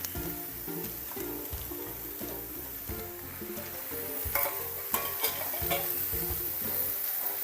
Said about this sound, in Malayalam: ഇതിലേക്ക് അരിഞ്ഞു വെച്ച ചേനത്തണ്ട് ഇട്ട് കൊടുക്കുക